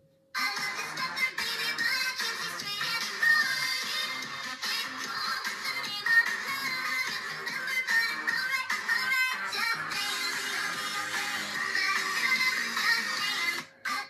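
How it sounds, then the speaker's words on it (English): A song plays through an iPhone 11 speaker, a dense, steady stream of music at moderate volume with a thin, boxy quality, running for the whole stretch before cutting off abruptly. "that is the sound of the iPhone 11."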